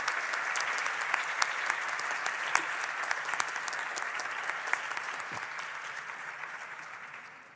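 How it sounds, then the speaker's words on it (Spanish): Steady applause from an audience at the opening of a Model United Nations event, a continuous wash of many hands with a few louder claps standing out, gradually tapering off at the end. "Un aplauso."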